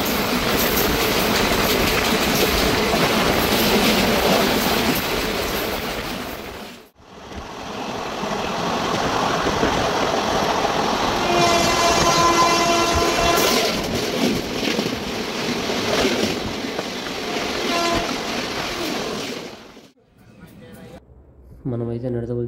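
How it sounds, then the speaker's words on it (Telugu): A Ratnachal Superfast Express travels along the rails with a loud, continuous rumble and rattle. The sound dips briefly partway through, then resumes at full strength before falling quieter near the end. "ప్రజెంట్ మనకి రత్నాచల్ సూపర్ ఫాస్ట్ ఎక్స్ప్రెస్ 120 కిలోమీటర్ల వరకు ప్రయాణం జరిగింది"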